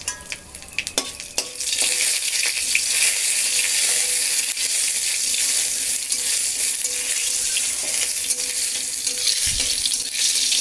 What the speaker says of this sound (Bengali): জিরা তেজপাতা শুকনো লঙ্কা আমার ভাজা ভাজা হয়ে গেছে